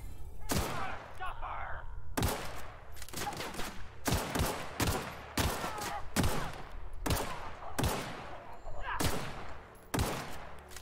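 Repeated gunshots in The Outer Worlds, sharp cracks coming in irregular bursts and single shots across the whole stretch, loud and close, with steady game ambience underneath.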